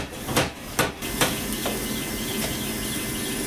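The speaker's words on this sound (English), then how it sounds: "Now I'll just go run over to the hammer and take that little bend out real quick." A power hammer strikes a Damascus steel billet a few times to straighten a bend, three or four sharp blows in quick succession, then a hissing forge-shop background continues.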